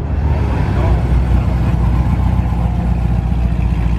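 A Dodge Challenger Hellcat's engine growls with a deep, continuous rumble, loud and close, holding a steady rev throughout outside a Houston cars and coffee meet.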